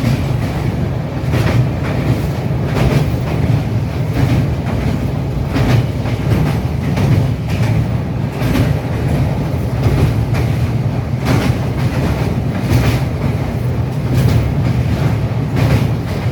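The Sealdah Puri Duronto Express runs at night: a continuous loud rumble of rolling wheels with a steady rhythmic clickety-clack, heard from inside, with no talk.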